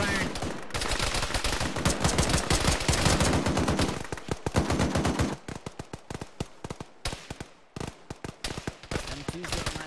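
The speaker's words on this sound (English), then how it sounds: "I got Zab, keep firing." Dense bursts of rapid automatic gunfire and single shots in a military video game firefight, loud and continuous at first, then sparser sharp cracks with brief gaps; voices faintly audible among the shooting.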